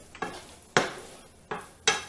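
Bacon and onions cooking in a pan: a soft steady sizzle broken by four scraping stirs at roughly even intervals, close up, with no talking.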